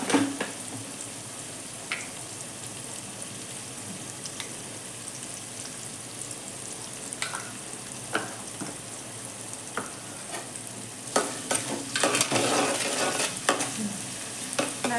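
Bottle gourd pieces frying with salt in a pan, a soft continuous sizzle with occasional light stirring clicks, swelling into louder, busier frying toward the end.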